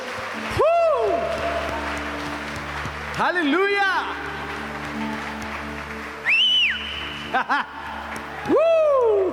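Congregational applause for God during a night worship service, with clapping spread under loud shouted praise and rising exclamations from the crowd, a few brief pauses between bursts.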